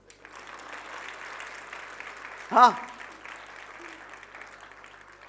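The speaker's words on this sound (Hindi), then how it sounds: "अब बजाइए ताली।" Audience clapping at a prayer gathering, a steady spread of applause running throughout with a brief louder swell near the middle, while a voice speaks over it.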